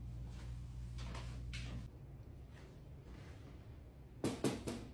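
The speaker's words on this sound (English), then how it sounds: "I'm going to use this to open the drawers" A drawer is pulled open in a clinical skills setting while supplies are being placed, soft sliding scrapes followed by a few sharp knocks near the end, quiet and close.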